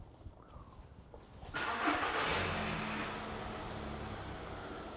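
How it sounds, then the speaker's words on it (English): A car engine cranks and catches during a PicoScope diagnostic test, then settles into a steady idle hum with a faint tonal drone, heard close and without talk. "we're going to push the start button, and then John's going to start the car"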